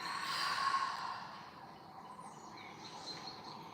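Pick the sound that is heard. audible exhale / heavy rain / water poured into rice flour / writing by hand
audible exhale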